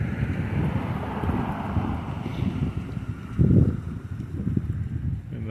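Cool wind buffets a microphone during an outdoor neighborhood walk in Calgary's Glamorgan area, a continuous rough rumbling gust noise with a stronger surge midway.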